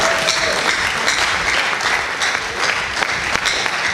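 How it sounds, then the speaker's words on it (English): Loud, dense applause from a crowd at a technology leadership conference, sustained clapping with no break, close and filling the room. "Clap for me."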